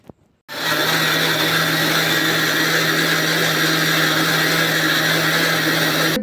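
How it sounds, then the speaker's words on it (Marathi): Mixer grinder pulverising soaked, dried rice into flour: after a brief click, the motor kicks in with a loud, steady whirring hum and rattling grind that runs unbroken to the end. "आणि हे आता मिक्सरमध्ये बारीक करायचं."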